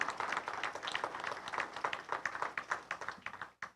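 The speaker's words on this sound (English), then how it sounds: "Let's give a round of applause to our candidates running for Ottertail County Commissioner and House Representative" Applause from a small audience at a meet-the-candidates event for Otter Tail County Commissioner and State House District 9A, steady clapping that tapers off and ends with a last brief burst.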